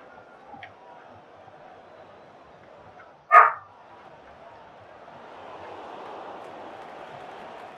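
A dog barks once indoors, a single sharp bark in the middle, fairly close, over quiet room noise and a faint low murmur that rises toward the end.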